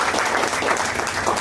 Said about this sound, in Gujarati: આપણે સૌ ગાંધી કવિતાને તાળીઓના ગણગણાટથી વધાવીએ